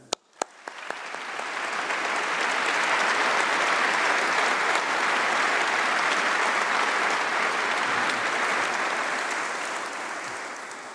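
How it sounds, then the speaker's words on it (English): A large crowd at a university graduation ceremony gives a long, sustained round of applause, a broad steady roar of clapping that swells quickly after a few early claps and fades slightly near the end. "let's give a round of applause to everyone who's helped you to get here today"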